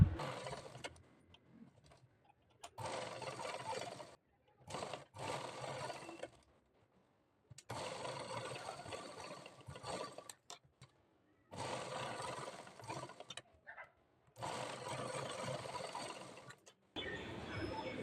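A sewing machine stitches the front part of a blouse in repeated bursts of a few seconds each, close and moderately loud, with quiet pauses and soft handling sounds between runs.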